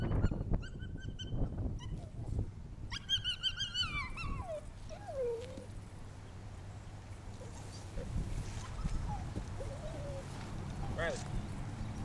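Brittany bird dog puppies whining and yapping outdoors, with high, repeated cries and yelps scattered through the clip while a person talks over them.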